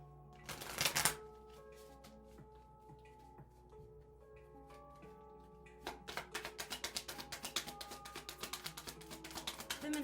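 Divine guidance oracle cards being shuffled: a brief loud riffle at the start, a quiet pause with faint tones, then a long run of quick, close flicking card snaps that grows steadily busier.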